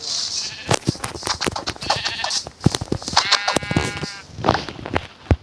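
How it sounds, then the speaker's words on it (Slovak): Minecraft sheep bleating with wavering harmonic cries, a few clear bleats standing out over busy game clicks, footsteps and other game sounds. "nech zabijú ovcu."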